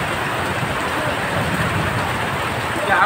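Heavy rain with big drops falling, a dense, steady hiss of rain on surfaces, loud and continuous throughout, with no voices heard.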